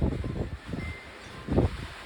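Strong wind on a rainy, windy day shakes trees and evergreens, a loud broadband rushing of leaves that swells and fades in gusts, with a heavy surge near the end and wind buffeting the microphone.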